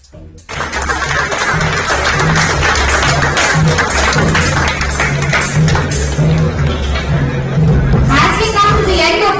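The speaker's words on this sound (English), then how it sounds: "a big round of applause once again for all our exceptional members, contributors" Sustained crowd applause at an anniversary event fills the whole stretch, steady and moderately loud, with clapping blended into murmuring voices and background babble.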